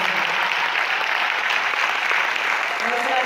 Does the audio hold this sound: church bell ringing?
no